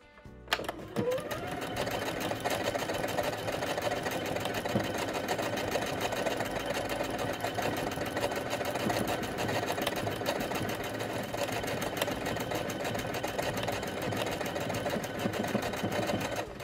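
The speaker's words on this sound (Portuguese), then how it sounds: "a máquina irá iniciar e finalizar a casa de botão automaticamente" A Singer SE9185 sewing machine stitching a buttonhole automatically runs with a steady, fast mechanical whir and needle chatter, close and continuous after a brief start, with no talking.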